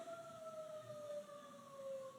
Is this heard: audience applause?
no